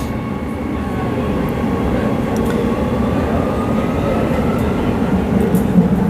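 A Perth suburban train heads toward Ellenbrook near Bayswater, a steady loud rumble of wheels on rails with a low droning hum from the carriage, continuous throughout with no talking.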